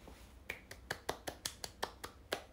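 A handful of sharp, evenly spaced hand claps, about ten in a row, sound close and crisp in a quiet room, each snap standing alone with short gaps between.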